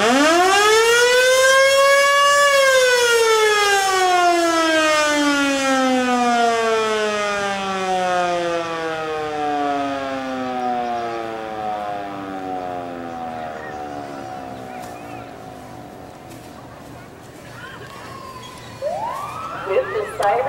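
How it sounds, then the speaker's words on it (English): A civil defense siren signals the start of a small-town picnic parade, rising in a long loud wail and then slowly winding down in pitch over about twenty seconds, with faint crowd noise at the end. "So cover your ears and the siren will sound."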